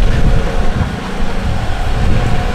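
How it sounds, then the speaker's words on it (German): Strong outdoor wind buffets the microphone at a fire brigade vehicle demonstration, a loud, continuous low rumbling roar with gusty surges that swamps everything else. "Ja, Moment, bei dem Wind. Doofen Wind."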